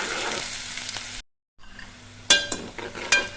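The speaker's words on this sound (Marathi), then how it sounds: "आता आपल्याला चांगला कांदा परतून घ्यायचा आहे" Onion and curry leaves sautéing in oil in a pan for a prawn masala, a steady sizzle that breaks off briefly and then resumes, with a few sharp clinks of a spoon stirring against the pan.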